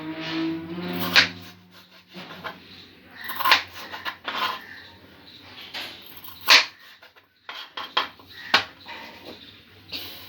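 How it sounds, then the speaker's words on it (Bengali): A knife cutting a potato into eight pieces on a board, sharp separate knocks and clicks spaced a second or so apart, close and fairly quiet, after a brief low hum at the start. "এইভাবে একটা আলুকে 8 টুকরো করব।"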